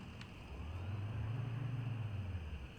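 A truck engine drives along in the Kentucky Route Zero video game: a low, steady hum rises slightly and then settles, faint and continuous, with no voices.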